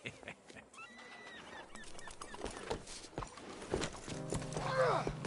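Horse hooves clop in an uneven rhythm in Red Dead Redemption 2, close and moderately loud, ending in a brief whinny, with a voice speaking over the hoofbeats.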